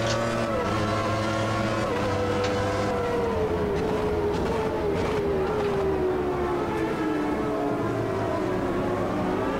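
A race car engine at Monza in the racing game Automobilista 2 holds a loud, steady whine that drops slowly in pitch through a long pull, with no one talking.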